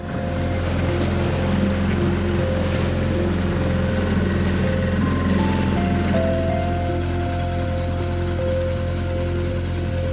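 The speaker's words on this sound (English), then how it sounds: "To finish the day, we took the dinghy for a trip around the calanque." A dinghy cruises around a Mediterranean calanque, its outboard motor holding a steady, close, continuous drone with a faint whistling pitch and light wind buffeting the microphone throughout.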